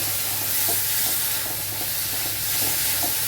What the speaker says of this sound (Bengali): এবার সবটা দিয়ে কিছুক্ষণ কষাতে লাগবে।